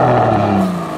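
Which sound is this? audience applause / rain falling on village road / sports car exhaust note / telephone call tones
sports car exhaust note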